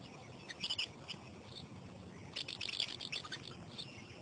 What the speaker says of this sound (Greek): Ένα σπουργίτι.